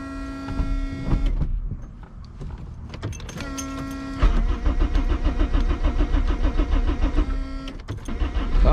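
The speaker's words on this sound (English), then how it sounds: "Here's my fuel pump." An electric fuel pump runs on an all-wheel-drive Honda CRX fuelled with E85, giving a loud, steady mechanical whine and buzz. It drops briefly, then returns louder and more strongly pulsing for the rest of the stretch.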